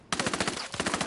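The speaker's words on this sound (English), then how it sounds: "Opening fire." Gunfire in the Ghost Recon video game: one rapid automatic burst of about a dozen evenly spaced close shots, loud and unbroken through the whole second.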